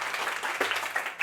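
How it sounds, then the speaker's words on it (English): Audience applause at a stand-up comedy show in Copenhagen, a steady wash of clapping from a crowd, fairly close and continuous with no voices over it. "A big applause for Albert."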